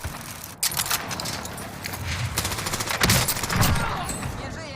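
Rapid bursts of video-game gunfire crackle over one another, loud and dense, with a few heavier blasts, while low voices murmur underneath.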